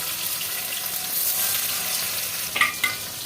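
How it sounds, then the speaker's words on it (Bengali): Paneer fries in hot oil in a pan on a low gas flame, giving a continuous dense sizzle with a couple of brief crackling pops near the end. "এবার আমি পনিরগুলো ভেজে নেব এই তেলের মধ্যে।"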